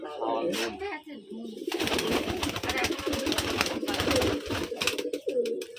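Pigeons cooing and fluttering inside a cramped indoor loft, close and continuous, with wingbeats and scuffling layered over steady murmuring calls.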